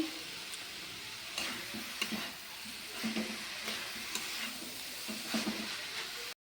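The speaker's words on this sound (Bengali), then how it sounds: "ভালো করে ঢাকা দিয়ে দিয়ে বাঁধাকপিটাকে কষিয়ে নেব" Shredded cabbage sautés in a pan for a Bengali bandhakopi ghonto, a soft, steady sizzle broken by periodic stirring scrapes and light clinks, quiet and close with no talking, ending abruptly.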